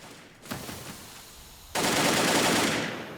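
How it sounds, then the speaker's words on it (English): P90 submachine gun fire in Counter-Strike, a short burst and then a louder sustained rattle of rapid shots, close and dense. "There's that P90."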